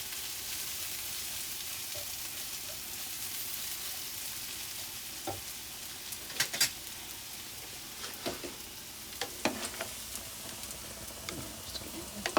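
Tapioca being stirred and fried in a pan for biryani: a steady soft sizzle runs throughout, with occasional scraping clicks and clacks of the spoon growing more frequent toward the end.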